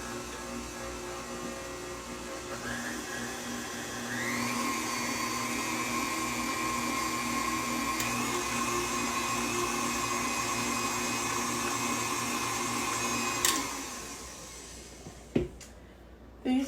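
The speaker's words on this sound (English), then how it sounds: "These mixers are notorious for not getting everything down and getting it mixed together." An electric stand mixer beating honey bun cake batter whirs in a steady loud hum, shifting pitch as it ramps up, then stops with a few clunks and knocks at the end.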